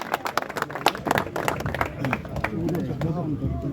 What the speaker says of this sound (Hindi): स्वागत कीजिए तालियों के साथ दिल्ली के मुख्यमंत्री का